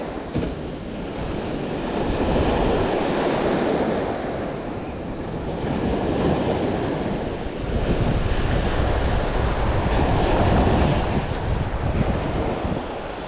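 Surf rolls in on a sea shore where sea bass are fished, steady wash of waves swelling and easing in slow surges, with wind buffeting the microphone throughout and no voices.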